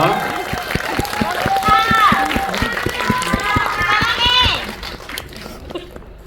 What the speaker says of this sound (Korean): 두 분께 박수 한번 부탁드리겠습니다